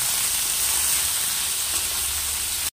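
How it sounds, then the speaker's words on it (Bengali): A loud, steady sizzle of taro stolons frying in hot oil in a pan continues without pause, then cuts off abruptly. "এই দিয়ে আমি কচুরলতিটাকে আগে ভালো করে ভাজা ভাজা করে নেব।"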